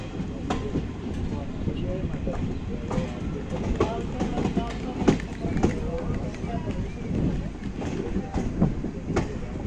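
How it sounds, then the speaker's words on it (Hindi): A passenger train pulls out of Kathua toward Jammu, with steady rolling rumble and rhythmic clickety-clack of wheels over rail joints, heard from inside the carriage. "ये कठुआ से हमारी ट्रेन निकल रही है जम्मू की तरफ"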